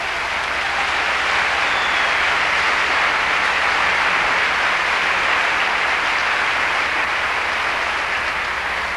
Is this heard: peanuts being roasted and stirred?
no